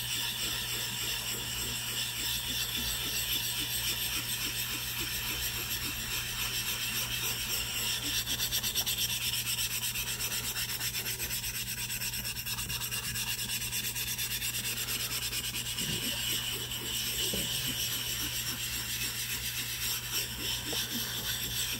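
Diamond sharpening plate being broken in by rubbing, a continuous loud abrasive rasp with a fast back-and-forth scrubbing rhythm that keeps going without a break, close and alone with no talking.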